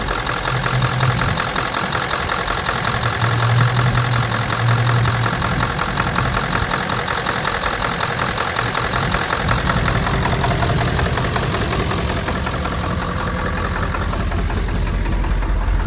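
A Ford rollback tow truck engine runs steadily at idle throughout, a continuous low rumble with a faint knocking texture, close and alone with no talking.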